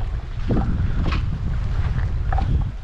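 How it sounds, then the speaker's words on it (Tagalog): Steady wind buffeting the microphone, a constant low rumble with gusty roar, alongside faint lapping water and boat sounds, while lure fishing from rocks. "Medyo mahangin lang ngayon"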